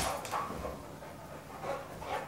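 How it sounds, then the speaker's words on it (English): A dog indoors gives a few faint, short barks and yips mixed with whimpering in quick bursts, fairly quiet and distant. "does he bark at you guys like that at all?"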